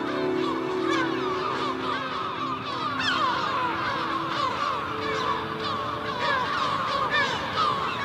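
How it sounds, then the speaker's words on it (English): Lesser black-backed gulls scavenging bin bags on a town street make a continuous chorus of harsh, overlapping calls and yelps, loud and close, with no pauses across the stretch. "They're mainly lesser black-backed gulls."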